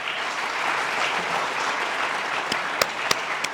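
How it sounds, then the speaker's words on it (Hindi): Audience applause at a launch event for an animation series, a steady roar of many hands clapping that ends with a few louder, separate claps near the finish. "एक बार जोर से तालियां।"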